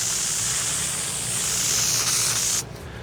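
Spray adhesive hisses from a can in one steady, loud, close burst lasting several seconds, then cuts off abruptly, in a van build cab interior.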